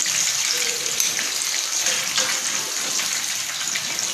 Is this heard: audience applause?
no